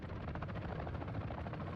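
A helicopter in a video game makes a steady, dense rotor thrum that stays loud and even for under two seconds, with no voices over it.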